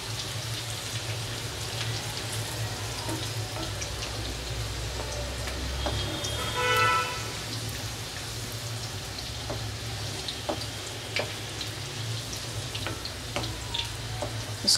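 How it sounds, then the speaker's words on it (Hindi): Vegetables fry in butter with a continuous soft sizzle and crackle like light rain, steady and close, with occasional faint utensil taps and a low background hum. "ये हमारी जो वेजिटेबल है वो अच्छी तरह इसमें फ्राई हो गई है बटर में।"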